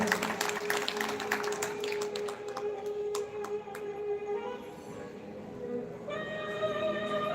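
An audience at a satsang in Raghunath ashram claps, with brisk, overlapping claps strongest at the start that thin out as sustained harmonium-like musical tones take over toward the end.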